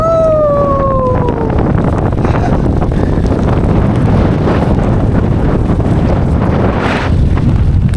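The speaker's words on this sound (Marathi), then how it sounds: "तर आता जोरदार पाऊस येतोय आणि वारा सुटलेला आहे" Strong wind buffeting close by with heavy rain roaring underneath, plus a brief falling whine early on, heard while riding a motorbike on the Konkan coast road from Shevare to Harnai.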